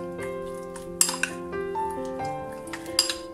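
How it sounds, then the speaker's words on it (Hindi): Chicken strips tossed with soy sauce, salt, pepper and a little sugar in a bowl, with close metal utensil clinks and scraping stirs in an irregular rhythm, a few sharper chinks standing out. "Salt, paper and a little sugar. इसको हम अच्छे से मिक्स कर लेंगे"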